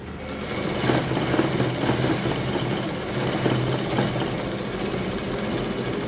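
A sewing machine runs steadily, stitching the side seams of leftover dress cloth, with a continuous close mechanical whir and no talking.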